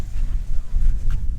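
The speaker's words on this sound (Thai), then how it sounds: "ลมแรงครับ" Strong wind buffets the microphone on a cold Iceland coast, a steady low roar throughout the short stretch, close and loud, with no talk over it.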